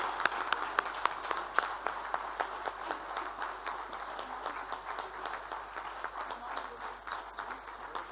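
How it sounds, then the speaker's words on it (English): An audience at an industry conference panel discussion claps steadily throughout, a dense patter of many hands at moderate distance, with no speech over it. "Please welcome and give them a heavy round of applause."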